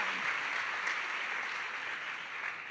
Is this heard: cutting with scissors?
no